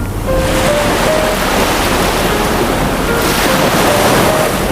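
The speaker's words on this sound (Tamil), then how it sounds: "அலைச்சற்கு விளையாட்டு சாகசங்கள் நிகழ்த்துவதற்கு சாதகமான அலைகள் அருகம்புடா கடலில் எழுகின்றன" Ocean surf at Arugam Bay beach rolls in as a loud, continuous wash of breaking waves, with wind buffeting the microphone throughout and no voices.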